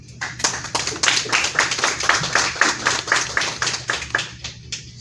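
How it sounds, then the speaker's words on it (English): Audience applause after a speech at a UN SDG Summit side event, heard as a loose, rhythmic run of distinct claps from a modest crowd that pulses steadily for five seconds, with no talking. "Deserves another round of applause."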